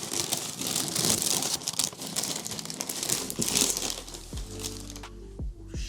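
Paper packing material inside a sneaker box crinkles and crumples steadily as it is handled and pulled aside during unboxing, with a few low thumps near the end.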